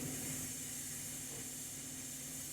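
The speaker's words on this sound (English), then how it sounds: "that steam's almost done" Steam venting from a Ninja Foodi pressure cooker, a steady, fairly quiet hiss with a faint low hum that holds evenly throughout, with no one speaking.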